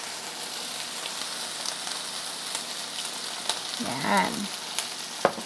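Marinated beef tapa frying in oil in a pan, a steady close sizzle with occasional crackles and a brief stirring scrape, one short word spoken over it.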